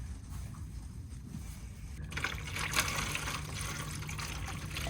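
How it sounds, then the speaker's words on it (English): Water trickles and splashes steadily into the bottom tray of a seed tray in a greenhouse, a soft continuous pour that grows slightly louder partway through. "fill it with some water"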